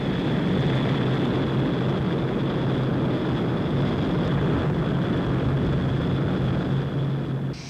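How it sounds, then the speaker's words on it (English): A 1960s Avro 748 short-to-medium-range 62-seat airliner gives off a loud, steady propeller and engine drone with a constant tone, heard close and alone with no talk. "this short to medium-range 62-seater, the 748, a direct descendant in a line of planes"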